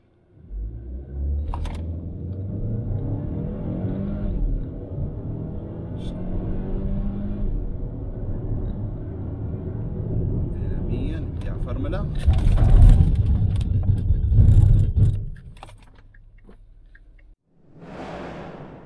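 A Lynk & Co 05 car accelerating, a steady low engine drone building through the run with a louder surge near the end before easing off, heard up close without talk.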